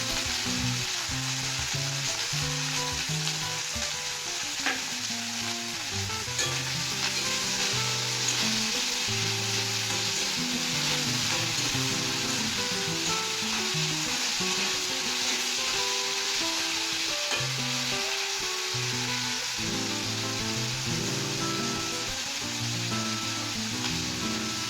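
Capsicum frying and being stirred in a pan for a Bengali chilli fish dish, a steady close sizzle with continuous scraping and stirring clatter throughout, no voices.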